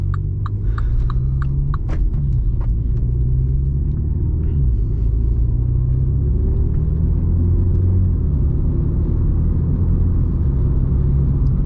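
A MINI John Cooper Works car driving, heard from inside as a steady, loud low engine rumble and road drone throughout, with a few faint clicks early on and no talking.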